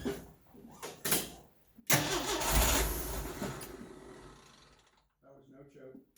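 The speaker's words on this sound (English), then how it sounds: "starting on full choke or If it'll start without full choke," A carbureted Jeep CJ engine starts without choke: a brief crank, then it catches with a loud roar that settles and fades toward idle, close by, with people talking near the end.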